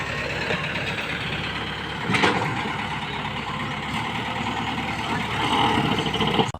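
A heavy diesel JCB loader runs steadily nearby on a farm, its engine rumbling and revving slightly, with occasional clunks of loading manure into a tractor.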